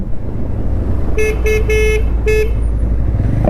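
Car horns honk in a stuck traffic jam at the Siliguri crossing on a road in Raiganj, West Bengal; four short, loud toots over a steady roar of idling engines, with no talking.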